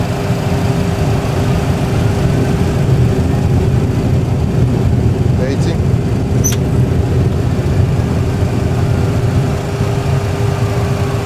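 Boeing 737 Classic engines roar steadily at reverse thrust on the landing rollout, a loud, continuous low rumble with a faint steady tone throughout and a couple of brief clicks midway, no talk.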